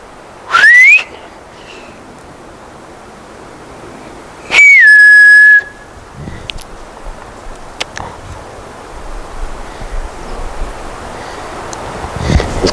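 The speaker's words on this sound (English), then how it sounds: "if I keep whistling and they keep and they respond back" A person in a forest whistles two distinct rising-and-falling notes, the first short and the second longer. Long quiet breaks with wind and faint outdoor noise fall between the whistles.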